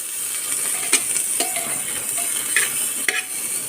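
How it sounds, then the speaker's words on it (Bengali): Grated ginger sizzles in hot oil in a pan while a utensil stirs it, giving a steady frying hiss broken by a handful of scraping clinks against the pan, close and clear. "আদা দিয়ে আদাটা একটুখানি ভাজ করে নেড়ে চেড়ে নিচ্ছি"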